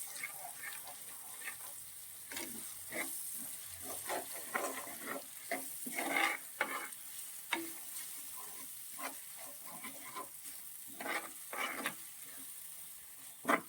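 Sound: masala frying in oil

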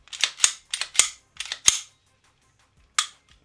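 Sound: Ruger 5.7 pistol slide pushed back into place

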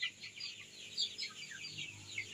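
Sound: young free-range chickens clucking

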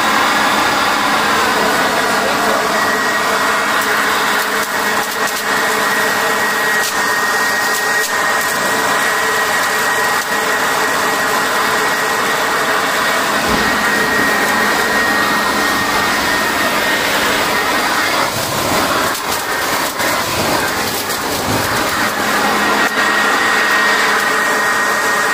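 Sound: Harbor Freight Portland corded electric blower vacuum mulcher mulching sticks

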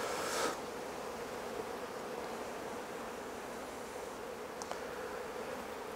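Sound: honey bees buzzing in an open hive

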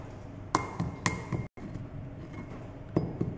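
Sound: crushing candies with a pestle

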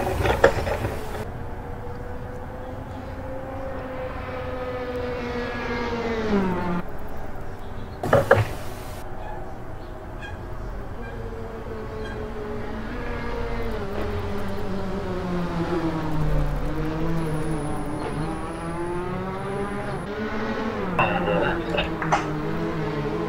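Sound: race car driving at Imola circuit in Assetto Corsa video game

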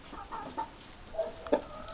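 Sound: chickens clucking

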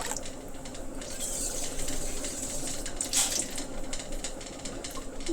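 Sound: water being poured into a pot

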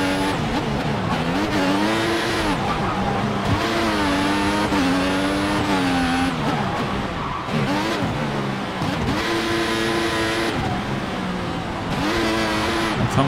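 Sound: race car driving in F1 2014 video game

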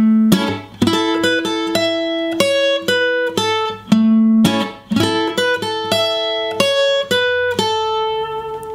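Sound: guitar playing a song's intro melody with rhythm

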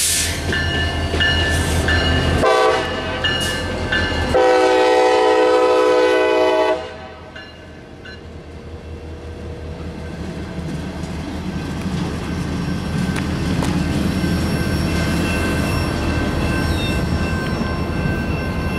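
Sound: EMD SD70MAC locomotive switching with caboose on CSX mainline

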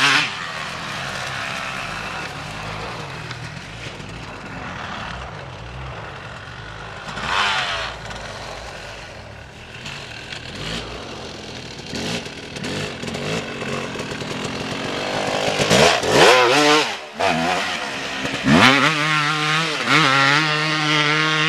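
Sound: motorcycle engine revving while ridden

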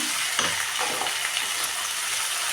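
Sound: tomatoes frying with ginger garlic paste in pan

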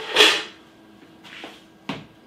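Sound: opening the doors of a Philips Perfect Draft beer machine

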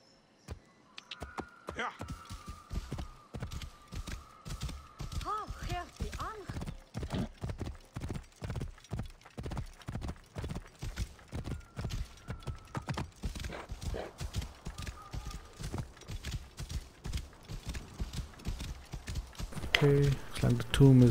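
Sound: horse galloping hooves in video game Assassin's Creed Origins

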